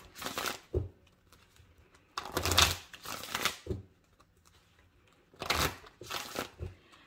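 Tarot oracle cards being shuffled in several quick riffling bursts, close and fairly quiet, with short pauses between them.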